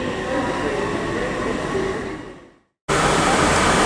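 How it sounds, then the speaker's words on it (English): Great Western Railway train at Reading station, a loud sustained rumble and hiss of passing carriages that fades, cuts to brief silence, then resumes abruptly at full level. "the 1457 Great Western Railway service to Weston-super-Mare"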